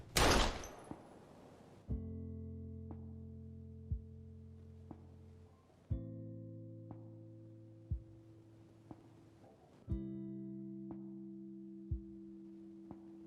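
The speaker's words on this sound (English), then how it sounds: "People not hear the gunshot?" Gunshots ring out in the video game Life is Strange, with a loud blast at the start followed by a series of sharp, evenly spaced reports under sustained tonal game music.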